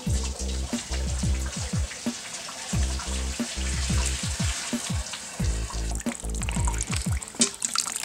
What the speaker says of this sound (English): Now we're gonna put in a couple quarts or 170 degrees for the water.